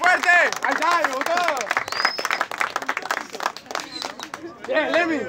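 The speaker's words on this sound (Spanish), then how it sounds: "¡Aplauso!" Audience applause and crowd noise at a Spanish-language freestyle rap battle quarterfinal, loud and continuous, mixed with a host's shouting and vocal chatter throughout.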